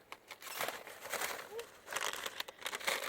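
Plastic bag crinkled and rustled by hand outdoors while collecting seed heads such as yarrow in a Scottish garden, with irregular close crackling bursts and a faint bird chirp in the background.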